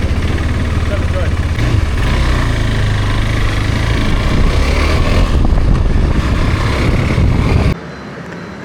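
KTM Adventure 390 motorcycle engine running, a steady close-up rumble under wind and road noise for most of the clip. The sound cuts down sharply near the end.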